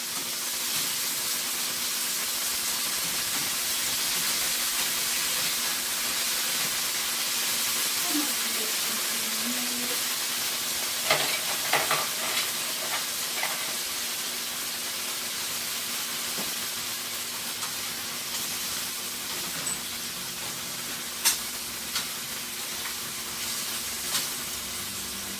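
Bangus steak with oyster sauce and pepper sizzles steadily in a hot pan, a continuous hiss broken by a few light clinks and scrapes as the fish is stirred, with no talking.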